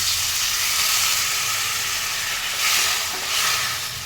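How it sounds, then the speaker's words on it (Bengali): Spiced taro pieces, fried raw in oil with the masala cooked down dry and catching on the pan, sizzle and hiss loudly and steadily as warm water is poured in, with bursts of steam. "এবারে আমি একটু উষ্ণ গরম জল দিয়ে দিচ্ছি"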